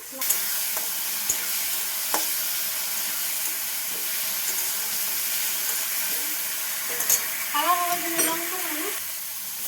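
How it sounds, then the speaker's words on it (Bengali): Spice paste frying in a pan, a steady hiss and sizzle with occasional stirring clicks, a short vocal sound near the end. "এবার ভালো করে নাড়াচাড়া করে লাল করে নেব মশলাটা।"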